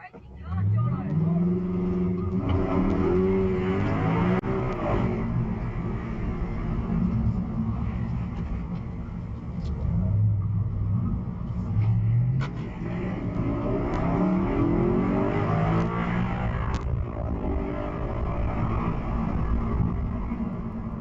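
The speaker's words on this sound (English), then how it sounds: "He continues revving the engine and driving like a maniac" A supercar engine revs repeatedly during a police chase, roaring up and down in pitch over a continuous loud idle, close by, with occasional voices underneath.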